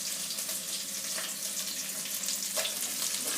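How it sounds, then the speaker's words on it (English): Carrots tipped into a pan of onions that have been cooking for about a minute, for a winter beef bourguignon, with a dense, hissing sizzle that runs steadily throughout, close and fairly loud, and no talking. "I'm going to chuck the carrots in."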